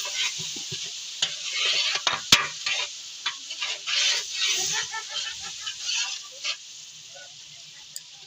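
Biryani masala, red chilli and salt are stirred into a pot for a large batch of degi chana biryani, with scraping and sizzling strokes up close at an uneven pace.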